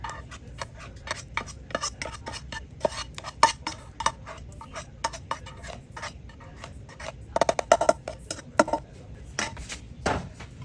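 A utensil stirs and scrapes mashed squash through bread dough in a bowl with melted butter, giving a steady run of close clicks, knocks and clinks with a few sharper bursts, and no talk.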